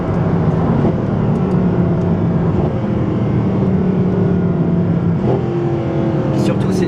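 Mercedes-Benz SLS AMG at high speed, around 230 km/h: steady loud engine and wind roar heard from inside the cabin, constant throughout, with people talking over it.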